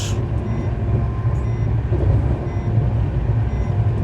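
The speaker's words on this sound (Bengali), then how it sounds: "আর এখন ট্রেন এইভাবে টানছে মানে এইভাবে চলছে" Shalimar–Puri weekly superfast express running at speed, a steady loud low rumble of wheels and carriages rolling continuously with no break.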